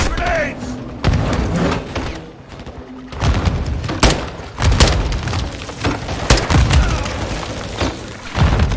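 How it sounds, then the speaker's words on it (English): Grenade explosions in the Modern Warfare 2 campaign, several heavy booming thuds landing at irregular intervals amid gunfire and battlefield noise, with soldiers shouting and talking over the blasts. "Incoming! Take cover! They're launching grenades!"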